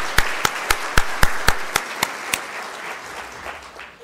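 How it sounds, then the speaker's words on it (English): Applause for Certificate of Merit recipients at a school parents' association conference, beginning as about ten sharp, evenly spaced claps that fade into a softer, steady wash of clapping from the audience. "Let's give a round of applause for the recipients who received their Certificate of Merit."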